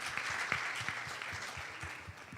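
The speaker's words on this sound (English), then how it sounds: "It really deserves a round of applause." Conference audience gives a speaker a round of applause, steady rapid clapping heard at a moderate distance and fairly quiet throughout.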